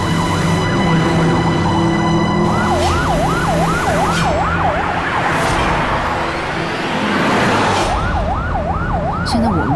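Several police cars wail with warbling sirens that rise and fall rapidly, loud and close, over a constant engine and road roar during a chase.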